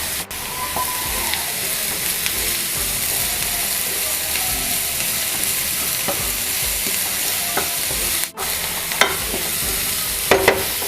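Finely chopped mushrooms sizzle steadily in a pan with softened onions while a spoon scrapes and stirs through them, with a few sharper clinks of utensil on metal near the end.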